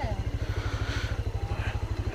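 A motorbike engine runs steadily near the rider on a rough path toward a temple at Turturiya Dham in Chhattisgarh, its low pulsing throb continuous throughout with faint background noise.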